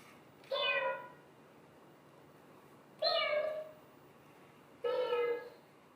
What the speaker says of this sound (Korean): 고양이 하면 또 고양이 소리도 내고요